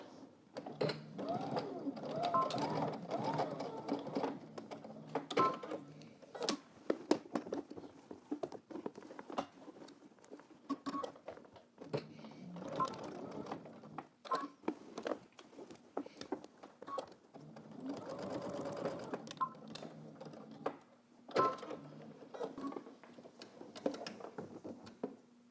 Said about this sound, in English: I'm gonna edge stitch.